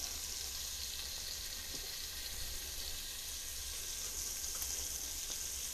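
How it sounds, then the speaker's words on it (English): The white part of green onion fries in a pan with bacon, making a steady, even sizzle that stays close and quiet without pause. "to this, I'm going to add most of the white part of the green onion"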